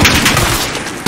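A missile explosion in Call of Duty: Modern Warfare gives a loud, close booming blast with rumbling low end, followed by a second sharp burst right at the end of the brief moment.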